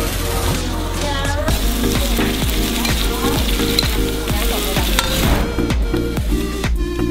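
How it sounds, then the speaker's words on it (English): Spices stir-fry for Taiwanese beef noodles with a loud, steady sizzle, cut by repeated scraping and clacking strokes of a utensil against the pan. "Okay, I'm gonna stir fry the spices."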